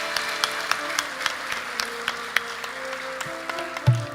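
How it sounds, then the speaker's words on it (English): A small crowd at a Hindu Navratri yagna night claps in sparse, uneven applause, the individual claps distinct over a steady background hum, with a soft thump near the end. "I want you to give her a real round of applause."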